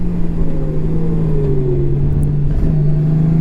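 A 2025 Honda Goldwing Touring DCT motorcycle of about 400 kg brakes hard, its engine hum gliding steadily downward in pitch over a continuous near road and wind rumble.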